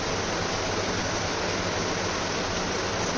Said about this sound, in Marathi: बाहेर पाऊस चालू आहे, त्याचा आवाज येतोय